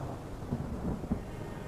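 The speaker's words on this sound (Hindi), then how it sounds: "दोपहर ढलने तक इस गर्मी और नमी से जोरदार बारिश होती है।" A low, rolling rumble of thunder over the steady hiss of heavy rain.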